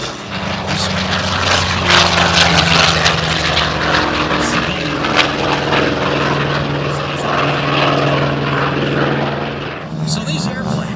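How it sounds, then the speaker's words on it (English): World War II era propeller airplanes flying overhead at the Miramar Airshow, a loud droning engine roar with steady low hum and rumble, while an announcer talks over it. "So these airplanes that you're about to see, the ones that are orbiting high overhead, they tell a story."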